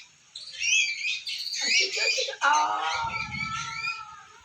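High, thin chirping from small sunbird chicks comes in busy bursts, close by and fairly loud, with a low rumble underneath at one point.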